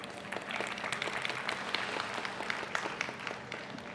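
An audience claps at a live stand-up comedy show in a hotel hall, a quiet, steady patter of many hands that continues evenly for a few seconds with no talking over it.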